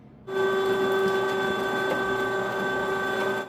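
Electric meat grinder starting up to grind beef for ventricina salami, a steady close motor whine with a strong constant hum, running evenly for about three seconds.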